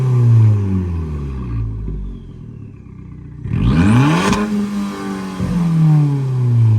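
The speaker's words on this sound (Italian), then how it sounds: "ma a piena potenza quanti decibel farà?" A 165 hp Abarth 500 Yamaha Factory Racing with an aftermarket exhaust is revved hard, its loud rasping engine note rising and falling through several sharp blips over a rumbling idle, close up.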